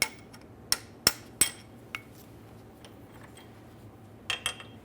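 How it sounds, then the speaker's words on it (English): Sharp metallic taps of a hammer striking a punch to drive a rear suspension part out of place on a 2005-2010 Chrysler 300, several irregular strikes close by, with quieter clinks between them. "Let's go ahead and tap this out of place."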